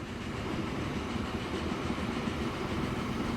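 A train runs steadily in the railway simulation game Transport Fever 2, a continuous low rumble with faint clatter, moderately loud and alone.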